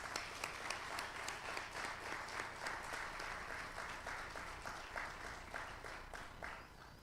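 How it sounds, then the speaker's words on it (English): Steady applause fills the room at a church education celebration for a graduating class, with many hands clapping continuously at a moderate distance and no talk over it. "May we get a round of applause for her, please?"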